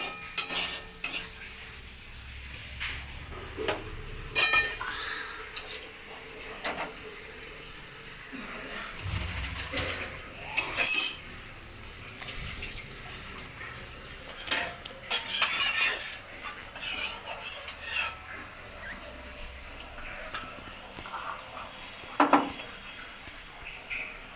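Potatoes and peas fry in a pan with a low, intermittent sizzle, broken by frequent stirring scrapes and sharp clinks of a utensil against the cookware, close up and moderately loud.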